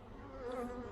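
Honeybees humming steadily at a hive during swarming on Réunion Island, a dense close buzz that swells slightly louder through the second, with no talk.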